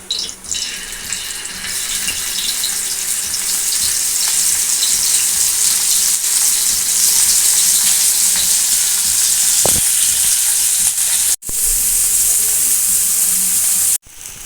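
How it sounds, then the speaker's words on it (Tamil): Bitter gourd frying in oil on a hot cast-iron dosa griddle gives a steady, loud, close sizzle with broad hiss that holds throughout, broken by two brief cuts near the end. "பாவக்காய் அதில் வச்சுக்கிடலாம்"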